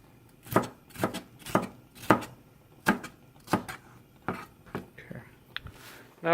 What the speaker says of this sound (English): I'm gonna cut the bell pepper about. Not too big. Same size of the onions.